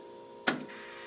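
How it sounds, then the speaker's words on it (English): A single sharp click from the fuel pump of a Bobcat track loader as the key is turned, rising out of a faint background hum and followed by a quieter trailing whir. "I hear the fuel pump. I heard something clacking."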